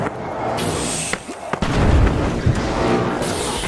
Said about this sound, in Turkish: Bomba atıyor adam bana.